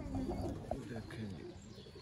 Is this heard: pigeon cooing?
yes